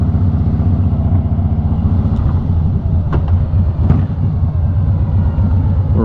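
A Harley-Davidson motorcycle rumbles steadily as it rides along, a loud, close, continuous low engine drone with a couple of faint clicks over the top.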